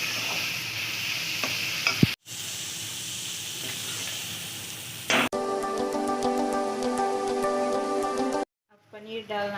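Paneer bhurji masala with garam masala cooks and is stirred in a pan, giving a soft sizzle and hiss broken by abrupt cuts, with a stretch of background music near the end.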